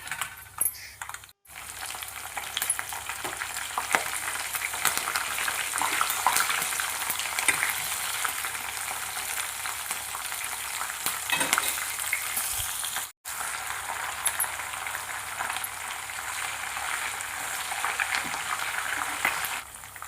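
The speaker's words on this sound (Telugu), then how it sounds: "ఇప్పుడు ముందుగా తీసి పెట్టుకున్న కరివేపాకును, ఎండుమిర్చిని, పచ్చిమిరపకాయలను ఇప్పుడు వేసుకుంటున్నాను" Curry leaves, dried red chilies and green chilies frying in hot oil for a tamarind pulihora paste, a steady close sizzle and crackle with occasional stirring, no voices.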